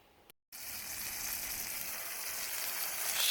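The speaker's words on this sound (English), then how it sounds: "they're starting to sizzle" Bullhead catfish frying in a pan give a steady, bright sizzle that starts after a brief silence and holds loud and even, growing slightly stronger toward the end.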